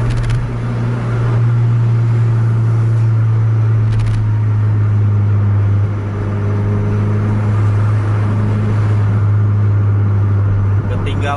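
A bus pushing hard at full throttle while racing another bus on a dirt road shoulder, a steady loud low engine drone sustained throughout, with a commentator talking over it.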